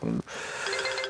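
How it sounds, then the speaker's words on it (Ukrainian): An alarm clock rings in a bright, steady electronic tone that carries on for about a second, with a brief voice at the very start. "Це будильник."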